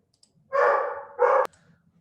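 Dog barking at the door indoors, two close woofs in quick succession followed by a sharp click, with a quiet room otherwise.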